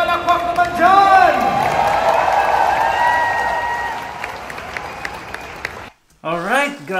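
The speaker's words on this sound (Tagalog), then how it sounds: "Isang malakas na palakpak naman dyan!" Loud crowd applause with cheering fills a Duterte Youth political rally, dense and steady for several seconds before cutting out, then a voice rises over music-like tones at the end.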